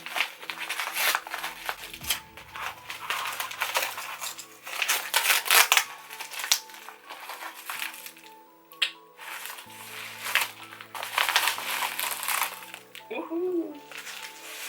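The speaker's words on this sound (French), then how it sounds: "J'ai enfin reçu les bijoux qui vont avec cette petite robe. Donc nous allons ouvrir ça ensemble." A parcel of Angelic Pretty Lolita jewelry being opened by hand, with crinkling plastic and paper wrapping rustling steadily throughout, close and fairly loud, while someone talks over it.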